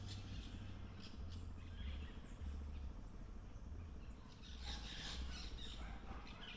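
Parrots squawking and chirping in the Jamaican countryside, faint and distant, with repeated short calls over a low background hum.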